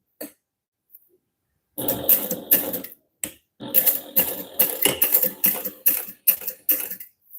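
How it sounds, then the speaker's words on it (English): A sewing machine topstitches vinyl wallet card slots in short stitching bursts with brief pauses, the needle clattering rhythmically and close by. "I'll top stitch using a 1/8 inch seam allowance"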